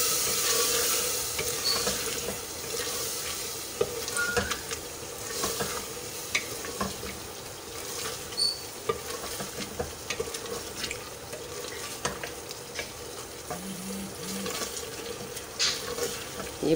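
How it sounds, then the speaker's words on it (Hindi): Lamb's liver with black pepper and green chili is stirred and sautéed in a pan, with a steady close sizzle and repeated scraping stirs throughout. "अब इसको थोड़ा सा ही बस जो है हम भूनेंगे"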